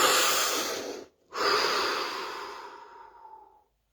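Deep meditation breathing, close and airy: a long inhale, a brief pause, then a long slow exhale tapering into silence.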